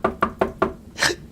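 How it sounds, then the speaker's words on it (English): Four sharp knocks on a door come in an even rhythm, close and clear, followed by a brief louder rustle or thud. "come knocking on your door at midnight"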